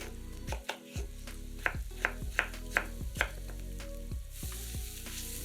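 Three to four potatoes being cut into cubes for a dumpling soup, a run of about six crisp knife chops on a board, evenly spaced, heard over a steady sizzling and a background music bed.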